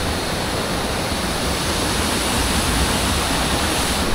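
A forest waterfall roars as a steady, loud, unbroken rush of falling water, with no voices over it.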